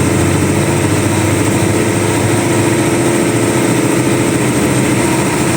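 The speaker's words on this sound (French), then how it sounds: "Le moteur se trouve au milieu là, comme nos anciens bus de l'époque." A Bangkok city bus engine, mounted mid-chassis, runs with a steady, continuous drone heard from close by, loud and unchanging with no talk.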